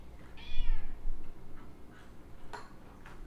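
A house cat meows at feeding time, a drawn-out meow near the start followed by fainter mews and small clinks, close by with no talking.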